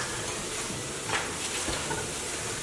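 Garlic powder and onion powder are stirred into a pan of homemade vegan marinara sauce, a soft, near sizzle with a few brief scraping stir strokes in the middle and no talk.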